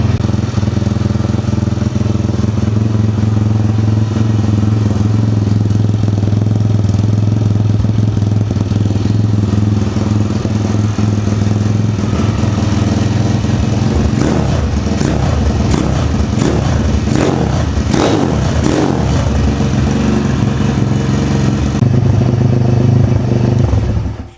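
A dirt bike engine idles steadily with a raised idle to warm the oil before an oil change, a loud, close, continuous drone with a rattling mechanical clatter that grows busier toward the end.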